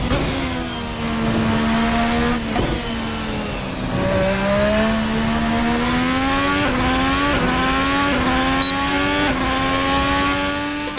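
Simulated F1 race car in a sim racing mod, the engine wailing loud and close as it climbs through gears, with repeated upshifts marked by brief dips before each rising scream.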